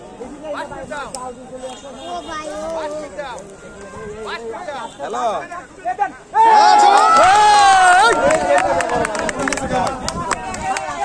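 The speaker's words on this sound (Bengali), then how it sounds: "সবাই হাততালি দিচ্ছেন।" A large crowd at a lakeside fishing competition bursts into loud clapping and cheering that swells suddenly and carries on, with voices shouting over it after some earlier talk.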